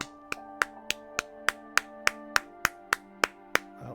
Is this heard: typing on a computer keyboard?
no